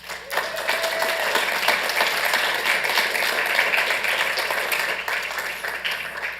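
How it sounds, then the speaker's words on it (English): An audience at a Santa Ana city council meeting breaks into sustained applause, a dense, even wash of many hands clapping that fills the room. "Please join me in giving them a round of applause."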